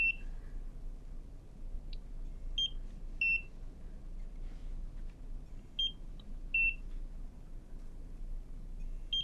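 High electronic beeps from a laser skin device chirp at irregular intervals, some in quick pairs, over a steady low hum from the device.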